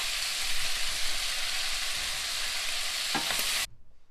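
Chicken and spring onions sizzle steadily in a hot pan while being stirred, a continuous loud frying hiss with a few scraping strokes near the end before it cuts off.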